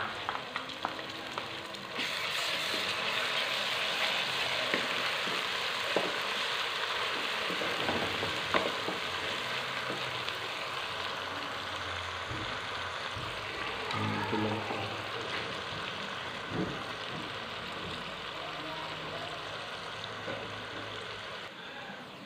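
Ginger and garlic paste fries with spices in a pot, a loud continuous sizzle with occasional scrapes and clinks of stirring that lasts throughout, close up and with no voices over it.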